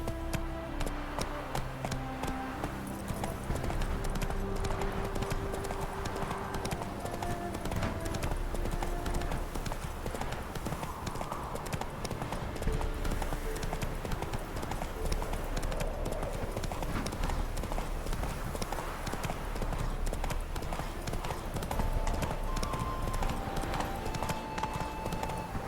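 A horse gallops steadily in The Witcher 3 video game, its rapid clip-clop hoofbeats loud and continuous under in-game music for the whole stretch.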